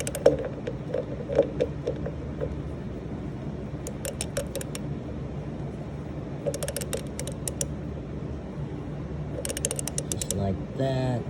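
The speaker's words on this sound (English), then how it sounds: "I use a socket and ratchet. Let's place it on here." Socket and ratchet clicking while tightening a fitting on a Hydro Gear ZT3400 pump on a mower, in short bursts of quick ratchet clicks separated by pauses.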